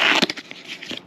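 Adhesive backing peels off a Custom Dynamics Double X headlight part for a Road Glide motorcycle, a short, close crinkling tear of about a second.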